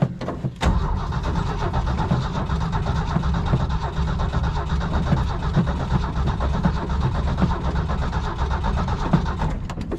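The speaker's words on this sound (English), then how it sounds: "It sounds pretty healthy, like it might try to start." Engine of a 1967 Ford F250 crew cab bumpside pickup running steadily for the whole stretch after a brief opening catch, a loud, continuous low rumble heard close up with no talking.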